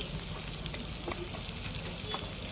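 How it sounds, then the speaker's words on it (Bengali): Amla frying with spices and chilli powder in a pan, stirred with a spoon: a loud, continuous sizzle with scraping stir sounds close by. "মশলাটা ভাজাও হয়ে যাবে আর এদিকে আমার আমলকিটাও সুন্দর কষাও হয়ে যাবে"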